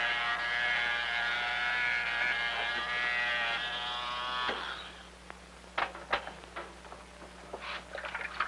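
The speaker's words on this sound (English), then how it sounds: "My father's shaving." An electric razor buzzes steadily and close for several seconds, then cuts off, leaving a quiet room with a few scattered ticks and light clicks.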